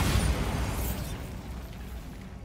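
The Bombarda spell in Hogwarts Legacy on PlayStation 5 detonates in a single loud, close explosive burst that fades into a rumbling decay over about two seconds.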